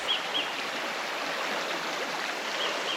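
River stream rushing over rocks on the rocky side of a riverbank, a steady broadband wash of flowing water close by, continuous and alone with no voices.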